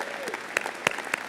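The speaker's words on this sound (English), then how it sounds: "give him a huge round of applause for this future mayor" Brief burst of audience applause at a State of the City 2017 address, scattered claps with a few sharp louder hits over a steady crowd background.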